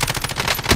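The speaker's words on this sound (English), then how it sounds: "Shots." Rapid bursts of automatic gunfire in Call of Duty: Warzone, a quick run of loud, closely spaced shots that swells louder toward the end.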